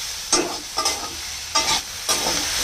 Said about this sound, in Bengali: ভালো করে আর একটু কষিয়ে এবার এর মধ্যে কাঁকড়াগুলো দিয়ে দেবো